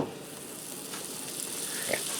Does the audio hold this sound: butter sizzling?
yes